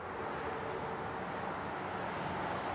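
Distant city traffic ambience from the Chaos;Head NOAH visual novel: a faint, steady wash of road noise with no distinct horns or sirens standing out.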